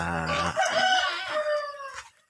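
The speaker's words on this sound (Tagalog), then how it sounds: "Anim na pirasong manok." A rooster crows loudly and close by in one long drawn-out call, with a little clucking alongside.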